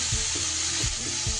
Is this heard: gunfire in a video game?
no